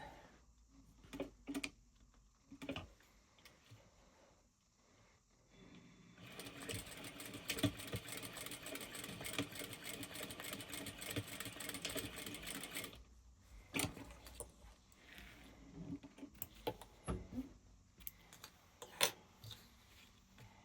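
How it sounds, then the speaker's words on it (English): A sewing machine stitches the sides and tabs of a fabric wallet, running in a steady buzzing whir for several seconds between scattered quiet handling clicks and taps, close and faint. "We're just going to stitch the sides, the tabs in place."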